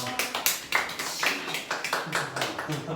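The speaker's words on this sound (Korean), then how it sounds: "박수만 치는 거 아니야?" Small group of people clapping in a room, a few uneven bursts of hand claps with rhythmic peaks, moderately near, mixed with some talking.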